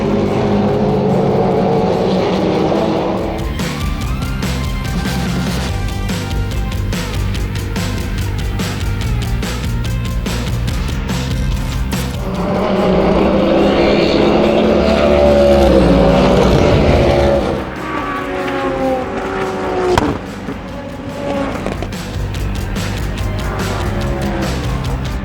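Sports prototype race cars roar past during the Rolex 24 endurance race at close range, engines rising and falling as they pass, with one car swelling loudly before fading into steady track noise.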